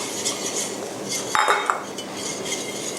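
A utensil stirring hot milk for vanilla cream in a pot, soft scraping and light metallic clinks against the pot's sides, with a brighter clink near the middle, close and without speech.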